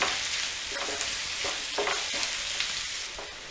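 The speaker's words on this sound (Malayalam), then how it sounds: "ഇനി നമുക്കിത് നന്നായിട്ട് മൂപ്പിച്ചെടുക്കണം ഇടയ്ക്കിടയ്ക്ക് ഇങ്ങനെ ഇളക്കി കൊടുക്കാം" Chunks of yam frying for a stir fry sizzle loudly and steadily in a pan, stirred repeatedly with scraping strokes of a spoon, with no voices.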